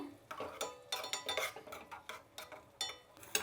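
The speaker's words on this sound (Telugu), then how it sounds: "ద్రాక్షి, జీడిపప్పు 2 వేయించుకుందాము." Raisins and cashews roasting in ghee in a pan, stirred with a utensil that scrapes and clinks against the metal in a quick irregular rhythm over a faint sizzle.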